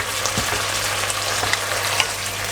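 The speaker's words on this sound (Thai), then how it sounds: "แล้วก็ผัดให้สลด" Pork belly with curry paste, yardlong beans and torn kaffir lime leaves sizzles and crackles steadily in a hot pan while being stir-fried, with a few soft scrapes of the spatula, no voices.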